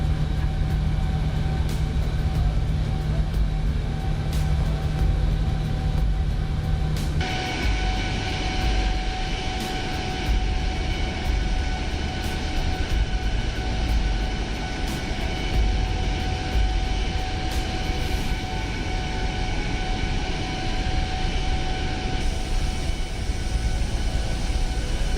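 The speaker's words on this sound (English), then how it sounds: "Quite uneventful departure out of Rome Fiumicino there" Simulated airliner departing Rome Fiumicino in Microsoft Flight Simulator, a steady loud jet engine roar with a constant tonal whine, shifting once to a broader, brighter rush as the climb continues.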